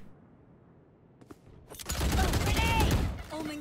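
Video game gunfire erupts as a dense burst of shots with mechanical clatter, loud and close, following a quiet stretch with a few faint clicks.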